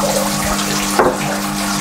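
Water rushes steadily from an opened valve on a koi pond filter pipe that feeds the filter chambers. The hiss stays constant and close, with a brief surge near the middle.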